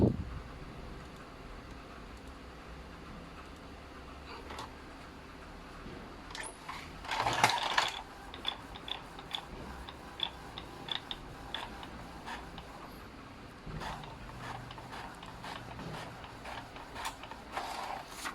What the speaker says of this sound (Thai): เดี๋ยวผมจะลองสั่งพิมพ์ตัวหนังสือดูนะครับ